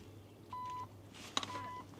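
Two short electronic beeps about a second apart from a Porsche Macan Electric's kick-sensor tailgate, faint, over a quiet outdoor background.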